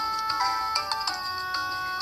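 A phone ringtone plays nearby, a steady bright electronic melody with short repeating beeping notes, continuous and fairly loud with no talking over it.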